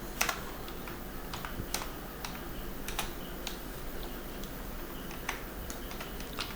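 Steady, fairly quiet typing on a computer keyboard, sharp key clicks arriving in irregular runs for several seconds, close up with no voices.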